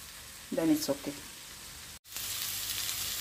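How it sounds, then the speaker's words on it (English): Vegetables frying in a pan for Nigerian fried rice: a short spoken phrase at the start, then a steady, close, broadband sizzle that continues to the end. "my vegetable has been frying for over 4 minutes"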